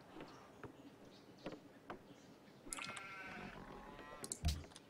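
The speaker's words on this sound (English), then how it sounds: "Let's move to the sheep." Sheep bleating in a Civilization strategy game, a single nasal wavering bleat near the middle followed by a short sharper call at the end, fairly faint over a quiet bed of ambient rustle and clicks, no talk.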